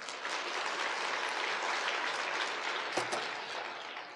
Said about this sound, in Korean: 자, 노인들 위해서 박수 한번 쳐주세요.